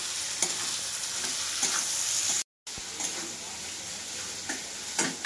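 Fish curry masala fries and sizzles in a pan while a spatula stirs it with soft scraping strokes, a steady close sizzle broken by one brief silent gap.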